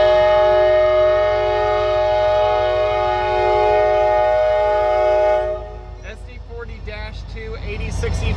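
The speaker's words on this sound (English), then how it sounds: "SD40-2, 8065 and 8141. Double header." Double-header CSX SD40-2 locomotives 8065 and 8141 near Hamilton, Ohio, with a loud sustained multi-tone horn blast lasting about five seconds, then the deep rumble of diesel engines and rolling train continuing nearby.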